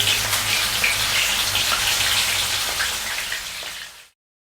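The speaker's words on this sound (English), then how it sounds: "And deep fry it in smaller batches." Flour-coated beef deep frying in a pan of hot oil, a loud steady crackling sizzle like heavy rain that holds close and constant before cutting off abruptly.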